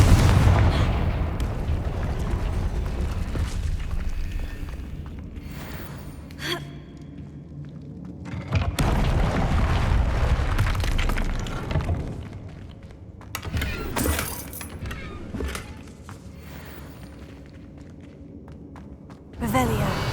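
A Confringo blasting spell fired in the Hogwarts Legacy video game, heavy booming explosions with rumbling bursts over game music and effects, a gasp-like voice and character speech around them.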